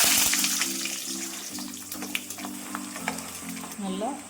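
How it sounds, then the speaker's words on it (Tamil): Peanuts deep-frying in hot oil give a steady, close sizzle with fine crackling bubbles, a low tonal hum running beneath and a few brief clinks near the end; no voices. "நிலக்கடலையை பொரிச்சு எடுத்துக்கலாம்"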